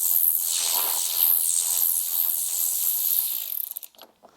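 A ratchet backing out a 10mm bolt on a Jeep JL Wrangler, a rapid, steady buzzing whir of clicking that runs for several seconds close up, then breaks into a few separate clicks as it stops.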